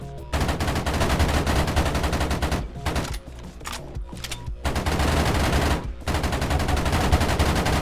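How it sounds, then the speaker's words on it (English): Machine guns fire almost without pause in a Tower Unite Virus minigame, several weapons blazing at once in loud, overlapping bursts with only a few brief gaps. "so many machine guns getting fired, my man. Relax with the machine gun fire"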